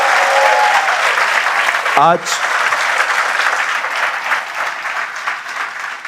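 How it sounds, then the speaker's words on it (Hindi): A church congregation applauds, a dense, sustained clapping that fills the room and runs throughout, with someone speaking over it briefly. "आइए प्रभु के लिए हम एक अच्छी ताली बजाएंगे"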